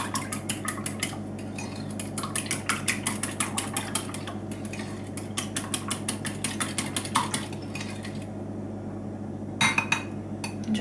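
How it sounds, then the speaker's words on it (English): Wet ingredients with vanilla extract for rock cakes are whisked in a bowl, a rapid, steady run of metallic clinks and taps close up that pauses briefly, then resumes with a few louder knocks. "And then just whisk those together."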